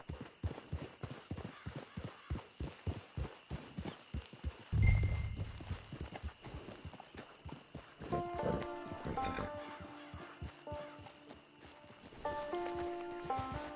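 In the video game Red Dead Redemption 2, rhythmic clip-clop of horse hooves trots steadily and close by, then eases off as a soft musical melody rises underneath.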